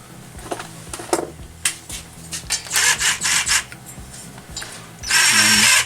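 Center bolts on the valve plate of a Quincy QTS-5 compressor are run in with a power tool, giving short whirring bursts between clicks and handling noises, then a louder sustained burst near the end.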